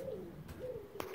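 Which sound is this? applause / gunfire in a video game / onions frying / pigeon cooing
pigeon cooing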